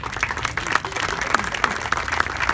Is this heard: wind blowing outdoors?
no